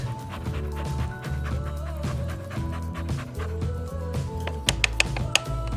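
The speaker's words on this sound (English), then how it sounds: "Come get the dog!" A dog pants and barks in a home, quick rhythmic panting broken by short barks and a few sharp clatters near the end, close and fairly loud, with no speech over it.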